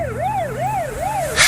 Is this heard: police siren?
yes